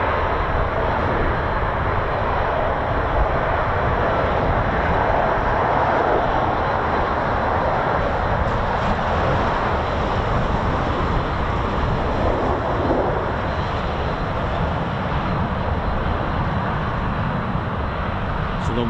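Red Arrows jets running in for the break over RAF Waddington make a loud, continuous broadband roar that holds steady throughout without letting up.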